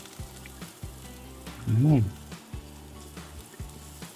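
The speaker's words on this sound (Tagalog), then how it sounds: "I-toast muna natin yung bawang bago natin ilagay yung ulo ng hipon" Garlic toasting in a hot pan gives off a steady, close sizzle and crackle, with a brief voice heard over it midway.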